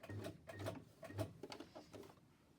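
A home sewing machine, worked by a foot pedal, runs in short rhythmic bursts of close mechanical chatter while sewing zigzag and straight stitches on an envelope embellishment project.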